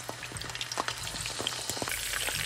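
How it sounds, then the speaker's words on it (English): Potato pieces frying for biryani-style fish kalia in about a cup of hot oil, giving a steady crackling sizzle with dense popping bubbles, close and continuous throughout. "I'm going to fry these potatoes just like we fry for biryani"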